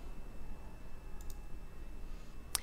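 A computer mouse gives a quick double click, then a single sharper click a moment later, close and crisp over a quiet room hum.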